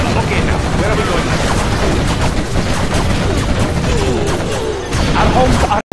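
Dense, sustained battlefield gunfire and explosions from Command & Conquer Generals, including quad cannon fire, a loud continuous barrage of rapid shots and booms with game unit voices mixed in.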